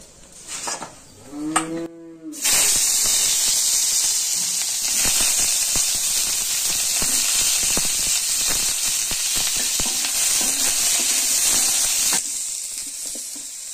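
Lentil dumplings (dal bori) fry in oil in a village kitchen, a loud steady sizzle that starts suddenly and runs for about ten seconds, preceded by a cow mooing nearby.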